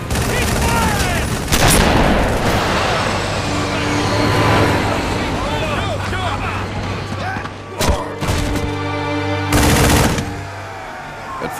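Heavy automatic gunfire and sustained fusillades from the video game Halo Wars, loud and close, with sharp bursts and a dense battle din under shouted voices.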